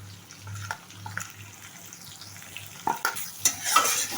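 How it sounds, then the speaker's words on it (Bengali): Spices stirred into cabbage and tangra fish frying in a pan, a soft low sizzle with scattered scraping and clinking strokes of the spoon that grow louder toward the end, no voices. "নেড়ে চেড়ে নেব।"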